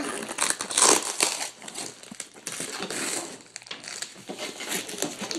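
A taped package being opened by hand, with close, irregular crinkling and crushing of wrapping in uneven bursts and short pauses, and no one talking.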